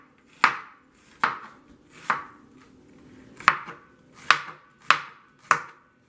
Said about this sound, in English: slice them real thin